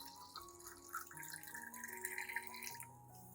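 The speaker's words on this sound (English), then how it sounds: "Then I will add about 500 milliliters of clean water." About 500 millilitres of clean water is poured into a blender over chopped aloe vera, giving a faint, soft trickling splash that runs on quietly.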